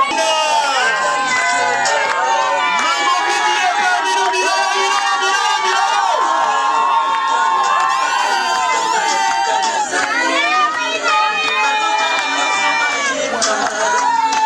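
A lively crowd at a birthday party in Pointe-Noire, cheering and crying out with joy, loud and continuous throughout with overlapping excited voices and chatter.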